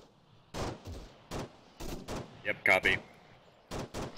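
Gunfire in the military game Arma: several short, sharp shots spread across the moment, mixed with brief radio-style talk.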